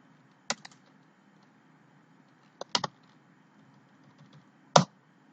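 A few isolated computer keyboard keystrokes, sparse sharp clicks spaced about two seconds apart, close and fairly quiet against near silence, made while building a cafe management program in Visual Studio.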